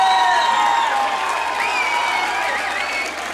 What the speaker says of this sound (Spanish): Dadle aplauso, gritad que guapa, ¡ole!